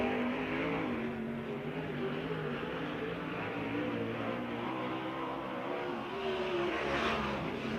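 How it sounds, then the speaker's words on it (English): A USAC sprint car roars down the back straightaway at a dirt oval during a racing event, a sustained engine whine heard at a distance, steady and fairly faint. "Send Sussex down into turn number 1 and 2 and down the back straightaway."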